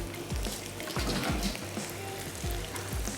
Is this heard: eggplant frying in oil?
yes